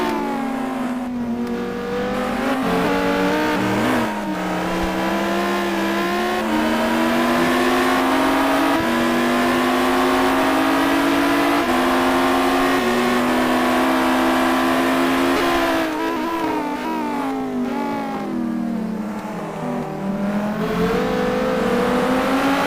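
Audi and Lamborghini race cars battling in the Gran Turismo 2 video game, loud continuous engine drone rising and falling in pitch through gear changes, several cars audible together, no talking.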